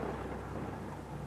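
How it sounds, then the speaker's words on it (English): Low, rolling thunder rumbles with rain in an indie horror video game, a brief, faint, continuous storm sound with no voices. "That's just the thunder."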